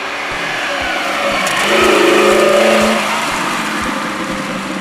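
A 1985 Lamborghini Jalpa engine drones steadily while the car drives, swelling slightly louder mid-way and then easing back, with no talk.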